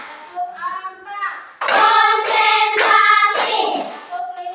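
Children in a classroom clap in a counted routine, starting with lighter rhythmic patters and then bursting into a loud run of fast claps mixed with young voices calling out together.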